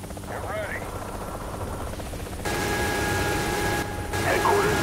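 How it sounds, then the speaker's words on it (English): Mi-24 Hind attack helicopter in a video game, a steady rotor and engine drone filling the clip and growing louder partway through as it flies in, with brief radio-style chirps and faint voices underneath. "Friendly hind inbound. Approaching target area."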